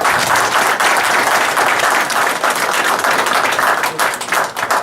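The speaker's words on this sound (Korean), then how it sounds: "우리 크게 환영의 박수를 좀 부탁드리겠습니다" A seminar audience gives a loud, sustained round of welcoming applause for a guest speaker, with dense, continuous clapping that stays strong throughout and tapers slightly near the end.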